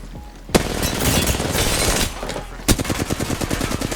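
Rapid gunfire in an Apex Legends fight, with a loud burst of shots followed by a sharp crack and then a fast rhythmic volley of repeated shots, dense and close.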